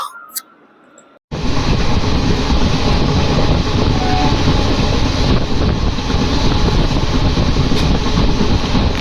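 After a quiet start, a loud train near Bangarapet railway junction in India abruptly roars in and keeps rumbling steadily, its wheels rattling along the tracks with a constant heavy drone.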